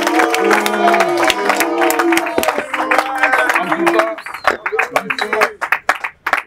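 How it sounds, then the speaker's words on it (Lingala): Audience at an official album release event bursts into clapping and cheering, crowd noise under someone speaking loudly, the applause thinning toward the end. "Est-ce qu'on peut applaudir s'il vous plaît pour l'album?"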